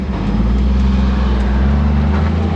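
A Jeep fitted with an aftermarket exhaust idles and revs gently to about 1500 RPM, a steady, loud, close-up engine drone with deep bass rumble throughout and no voices.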